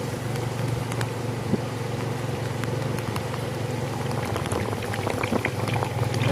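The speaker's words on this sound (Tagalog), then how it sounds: "Maulan." Rain falls during a typhoon over a village road lined with houses, a steady, dense patter and hiss that runs unbroken from start to end with no talking.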